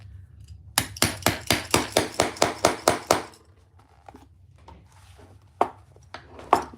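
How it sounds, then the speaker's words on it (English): Hammer blows pound rivet holes, about ten sharp, evenly spaced strikes in quick succession, followed by a pause and then a few scattered, separate knocks, all close and fairly loud. "I'm going to pound these rivet holes"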